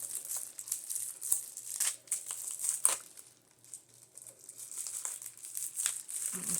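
Plastic packaging crinkles and rustles as it is cut open with scissors, a steady crackling close by at low volume with a few sharper snips and crunches along the way.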